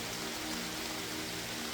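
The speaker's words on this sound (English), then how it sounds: "As it drizzles, as it rains in nature, light rain." Light rain falls outdoors as a steady, faint, even hiss that holds for the whole moment, with no voices.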